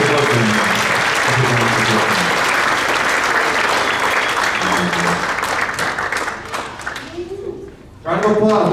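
Sustained audience applause for an eighth-grade percussion award winner at a school winter concert, dense and steady, fading near the end before a voice briefly cuts in over the clapping.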